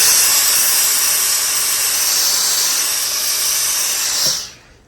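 A hot clothes iron releases a long, steady blast of steam over layered fabric while a sleeve is being shaped, a loud broadband hiss that cuts off sharply at the end.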